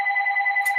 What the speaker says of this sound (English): oh, I apologize, my phone is ringing